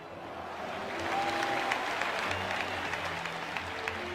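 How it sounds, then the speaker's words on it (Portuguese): A large crowd applauds in tribute to the Chapecoense victims, steady dense clapping that swells after the first second and holds, with faint crowd murmur beneath. "todos pudessem dar uma salva de palmas àqueles irmãos que se foram"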